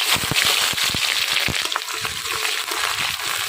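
Sliced onions fry with a dense, steady sizzle in oil in a wok, tossed with five-spice tempering, while a spoon scrapes and stirs in quick, uneven clatters close by.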